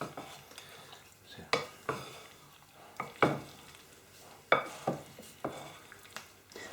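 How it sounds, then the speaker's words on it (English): Wooden spoon stirring egg and soft potato for a Spanish omelette with chorizo, heard as soft scraping with a few sharper knocks against the pan, fairly quiet and close, no talking. "Give that a stir around and get everything mixed up."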